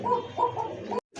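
Two female Rasgolla pigeons coo close by in a short run of soft, low throaty coos, three or four pulses in quick succession before an abrupt cut.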